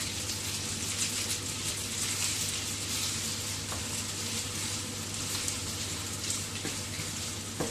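Tomato fries in a pan with a continuous, even sizzle and crackle that holds steady throughout, close and fairly loud, with no talking.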